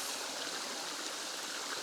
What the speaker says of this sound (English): But it's a lovely waterfall.